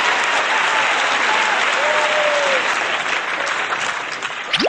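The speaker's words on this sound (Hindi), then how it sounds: "जोरदार तालियों के साथ स्वागत कीजिए" Loud, sustained applause from a school audience welcoming a young poet onto the stage, dense clapping that fades slightly toward the end, with a few faint voices and whistles mixed in.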